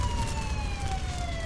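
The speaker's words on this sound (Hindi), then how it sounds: "पुलिस की जीप की सायरन की आवाज़ सुनाई" A police jeep siren wails steadily over a rumbling background, its tone sliding slowly downward as it sounds loud and continuous throughout.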